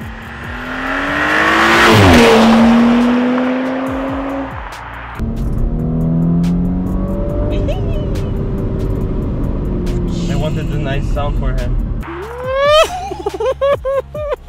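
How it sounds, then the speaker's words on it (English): An Audi B9 S4 with a Unitronic Stage 1+ tune and changed exhaust accelerates hard on the road, the engine note rising and shifting through gears, loud and close, followed by a gasp-like exclamation and short bursts at the end. "The exhaust has changed. It sounds incredible."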